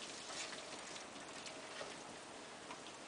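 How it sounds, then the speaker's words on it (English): Green beans and mixed vegetables sizzle steadily in a hot pan while being stirred, a dense, even hiss with no pauses and no voices. "And I'm simply going to stir that in."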